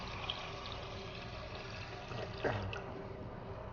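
About two cups of water poured for a fruit and whey protein smoothie, heard as a quiet, steady trickling stream that swells briefly near the end.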